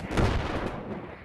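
A firework launching outdoors, heard as a sharp, close burst followed by a short rushing, crackling hiss that fades over about a second.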